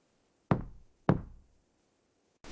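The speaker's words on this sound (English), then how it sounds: "I knocked again." Two firm knocks land on a front door about half a second apart, each with a short hollow decay, followed after a pause by the start of another sound.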